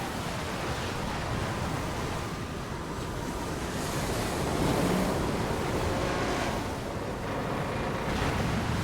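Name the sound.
ocean waves crashing in the video game Lost Odyssey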